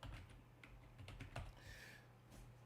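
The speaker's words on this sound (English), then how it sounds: "we're going to type in I Show You audio capture" A computer keyboard clicks under quick typing, a short burst of light, close keystrokes in an uneven rhythm with no voices.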